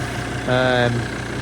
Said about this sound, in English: Engine's running beautifully, but as I mentioned, could be a mount off or something.